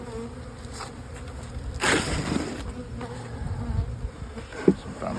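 Honey bees buzz steadily around an opened hive during a split into several colonies, the drone swelling loudly for a moment with a sharp knock of frames near the end.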